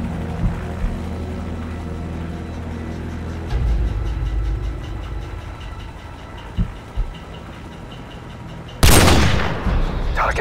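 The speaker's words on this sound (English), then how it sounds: "Target is down. Nice shot," Gunfire from a sniper rifle in the video game Call of Duty: Modern Warfare, with a sharp, loud shot cracking out near the end over a low engine-like drone and scattered quieter bangs.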